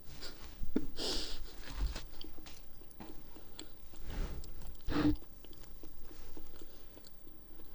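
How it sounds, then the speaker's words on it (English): Soft, wet chewing of a peeled banana, close to the mic, with a few quiet bursts of mastication and small mouth sounds spread over several seconds and no talking. "I like to peel it off, put it in my mouth, and chew."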